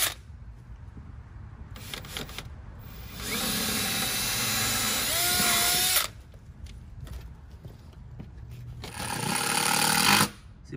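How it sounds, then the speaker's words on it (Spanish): A power drill bores a pilot hole for a screw in wood, whining loudly in two sustained bursts of a few seconds each, with quieter handling noise and brief buzzes between them. "Aquí está haciendo un hoyo para guiar el tornillo."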